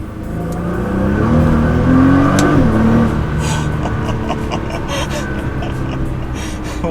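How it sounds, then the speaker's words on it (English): An R35 Nissan GT-R engine revs up hard in second gear and climbs in pitch, then drops with a gear shift before pulling on, loud and close, with muffled voices underneath. "we'll do another acceleration, second gear"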